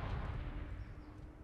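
A deep, rumbling explosion in the game Arma 3 near a bunker in a battle, a heavy low boom that rolls and decays over a second and a half with no talk.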